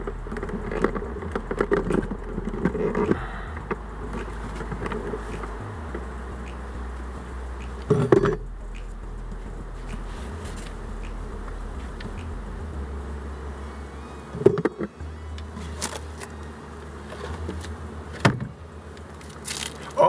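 Honey bees around beehives near a farm, a soft continuous buzzing hum with a few louder thumps and rustles breaking through at intervals.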